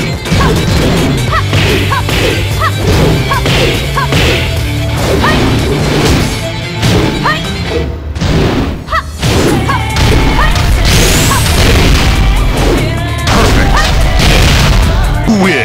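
Constant loud Tekken 8 fighting game combat, with dense rapid hits, smacks and whooshing strikes piling up in fast flurries under booming impacts and a steady game music bed.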